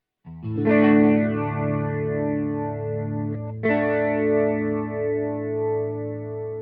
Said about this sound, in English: So here's chorus.